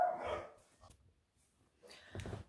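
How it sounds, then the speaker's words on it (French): Two Jack Russell terriers bark from indoors, a burst of yapping at the start and another louder cluster near the end, with a quiet gap in between and no talking. "je vais aller voir mes chiens qui hurlent"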